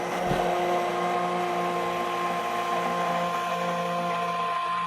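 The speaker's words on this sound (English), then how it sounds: "I'd like to make sure to pick up and put down my immersion blender so that nothing gets stuck" Immersion blender whirring through soup, a loud continuous motor whine with a brief knock at the start, running steadily and alone.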